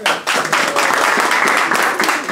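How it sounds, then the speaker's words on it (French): An audience breaks into applause after a brief lull, loud, dense clapping that holds steady for around two seconds. "Merci Nazy, applaudissez-le."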